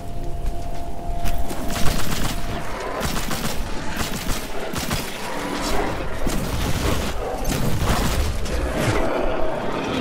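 Video game gunfire in Immortal Unchained: dense, rapid volleys of shots crackle continuously with heavy bursts and booming impacts, loud and close throughout.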